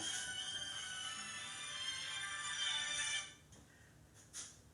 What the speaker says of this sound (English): And someone is calling my phone.